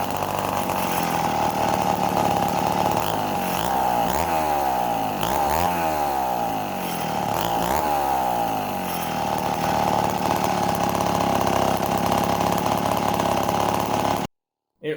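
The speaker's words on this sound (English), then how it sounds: "After some slight carburetor adjustments, it was idling well and had pretty good trigger response." A vintage Wright C50 chainsaw engine idles with a rough buzzing note and is blipped through several quick revs, running loud and close on its own before cutting off abruptly at the end.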